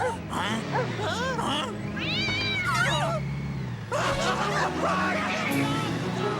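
Angry cats in an animated film meow and caterwaul in loud, rising and wavering yowls, several voices overlapping in bursts over a busy, babbling background.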